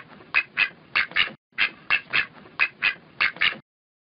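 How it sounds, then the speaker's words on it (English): Cartoon ducks in an alphabet learning video game quack in quick pairs and triplets, about a dozen loud, nasal squawks in rhythmic bursts with a brief pause in the middle, then silence. "Ducks."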